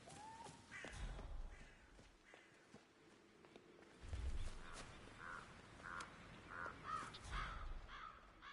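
A series of crow caws in the Hitman video game, several harsh calls spaced across the stretch at moderate distance, with soft footstep-like thuds and ambient game sound beneath.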